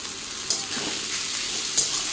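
Fried onion with beans and potatoes sizzles steadily in a pan, close and even, with two brief spatula knocks as it is stirred.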